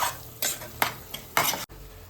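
Masala paste for mutton sukka being stirred and fried in oil, a spoon scraping the pan in a few short strokes over a soft sizzle, close and alone.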